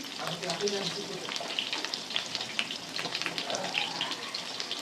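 Potato pieces frying in oil in a pan until reddish crackle and hiss with uneven pops and occasional stirring, fairly faint, with a voice speaking at times.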